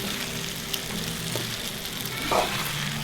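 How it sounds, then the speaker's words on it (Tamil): Oil sizzling steadily as millet kali cooks in a pan, a dense continuous hiss heard up close with no speech, swelling briefly near the end. "நல்லா சொக்கி வருது எண்ணெய்"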